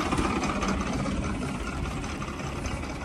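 A tractor engine runs in a peanut field, a dense steady low rumble close by, holding at an even loud level the whole time with no voices.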